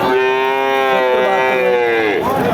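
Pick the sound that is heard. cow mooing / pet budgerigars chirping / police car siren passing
cow mooing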